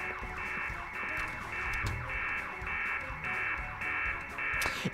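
A steady, looping electronic alarm buzzes in The Stanley Parable, a harsh pulsing tone that repeats in even cycles and dominates the whole stretch, loud and close with no talking over it.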